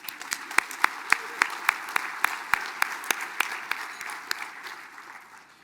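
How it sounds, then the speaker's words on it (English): Applause at a tribal State of the Band assembly, with one loud, close clapper striking a sharp, steady beat over softer crowd clapping, the whole sound fading gradually. "Let's give him one more round of applause."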